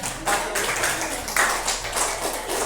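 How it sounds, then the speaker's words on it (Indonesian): A class of primary school pupils claps steadily for a few seconds, a dense patter of applause with no voices. "Kasih tepuk yang mulia untuk kelompok"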